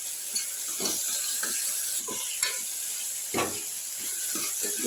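Chopped tomato tipped into hot oil with frying ginger-garlic paste, a steady close hiss of sizzling with scattered crackles and spatters and occasional stirring scrapes.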